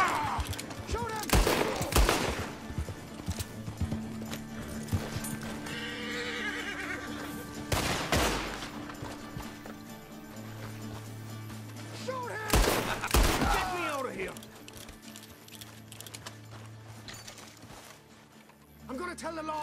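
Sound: gunfire in Red Dead Redemption 2 video game

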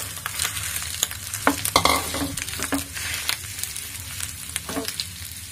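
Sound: crushed green chilli and ginger sautéing in a pan

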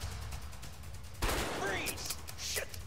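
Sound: gunshots in the video game A Way Out

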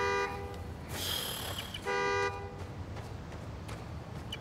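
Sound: car horn honking from key fob, Spider-Man Miles Morales video game

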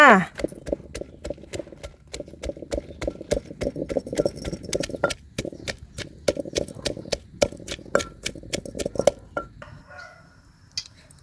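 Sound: pounding chilies and garlic in mortar

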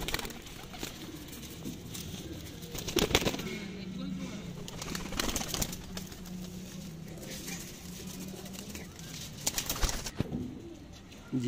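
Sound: pigeons cooing

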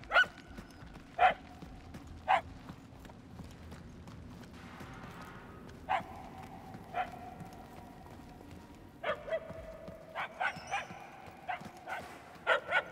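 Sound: puppies barking and whimpering in Guardians of the Galaxy video game

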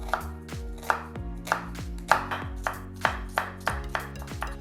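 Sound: chopping onion with a knife

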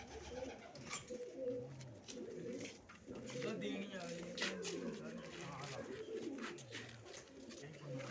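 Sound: pigeons cooing in a loft

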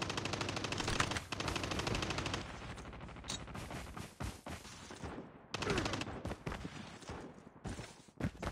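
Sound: gunfire in Call of Duty Mobile video game

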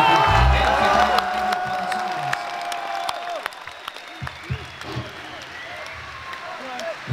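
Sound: audience applause and cheering for the band

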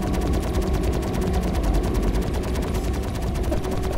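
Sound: guns firing in Star Citizen video game

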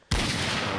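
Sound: 44 Magnum gun firing in Minecraft Guns Mod, video game

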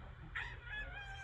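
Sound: rooster crowing in a played video

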